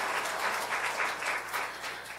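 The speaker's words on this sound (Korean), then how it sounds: "우리 다시 한번 하나님께 영광의 박수를 드립니다" A church congregation applauds together during a Sunday service, a dense, steady wash of many hands clapping that holds evenly across the couple of seconds without speech on top.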